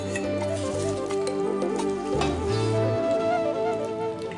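A hot tempering of oil and spices sizzles steadily as it is mixed into tamarind rava semiya pulihora, a continuous crackling hiss under a bed of music.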